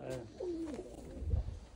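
Tumbler pigeons at a loft in Torbalı give a soft, low cooing call with a brief rising-falling warble, close by amid light background noise and handling thumps.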